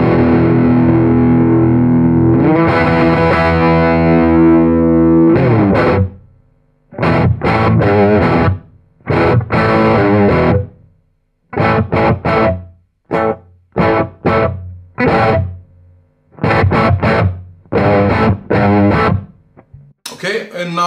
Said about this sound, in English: let me show you the sound of the cable, okay? Keep attention to noise.